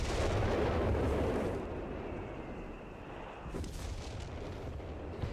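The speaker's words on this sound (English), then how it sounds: "Artillery's inbound!" Incoming artillery fire in Company of Heroes 3, with a loud rumbling roar of shelling that fades into a lower, steady battlefield hiss and distant thumps.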